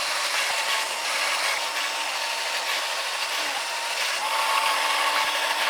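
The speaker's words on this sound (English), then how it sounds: "To prevent the screws from breaking the plastic, we'll pre-drill some holes." A power drill whirs continuously as it pre-drills holes into plastic, a steady grinding buzz with a faint whine throughout, no talking.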